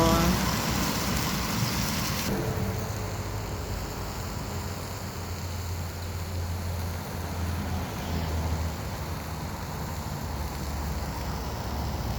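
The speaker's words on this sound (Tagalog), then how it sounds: "buti na lang hindi medyo malakas yung ulan" Steady hiss of light rain falling outdoors, continuous and even, with a faint low hum underneath and no voices.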